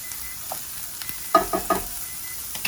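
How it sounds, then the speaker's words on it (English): Chopped onion in a hot 10-inch cast iron skillet on a stovetop, a faint steady sizzle with a few light stirring scrapes and taps, no talking. "10-inch cast iron skillet heated up on the stove, and I am just going to add in our chopped onion"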